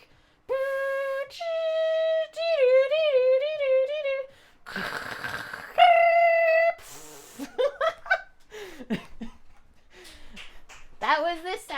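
A person vocally imitates an old dial-up internet connection with warbling sung tones, a burst of hissy static and rising squeals, then breaks into laughter and breathy chuckles.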